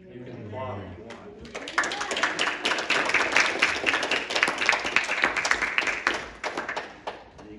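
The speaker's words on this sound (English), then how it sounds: "You can applaud if you want." An audience applauding right after a baptism: brisk clapping that swells in after a spoken voice, holds steady as a moderate, fairly close patter, then tapers off toward the end.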